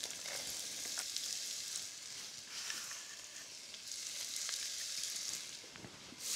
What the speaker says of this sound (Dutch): Ik roer de ui en knoflook om, want zo kan ik die overal gelijkmatig aanfruiten.